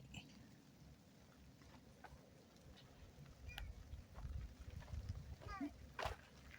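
Steady rain falls across a campsite in Hiroshima, Japan, a soft continuous patter that swells louder toward the end, with scattered faint voices in the background.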